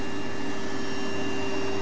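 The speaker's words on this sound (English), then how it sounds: "there is a do-it-yourself version, an ordinary home hairdryer" An ordinary home hairdryer gives a steady, loud whoosh of blowing air with a constant motor hum, unbroken and close by.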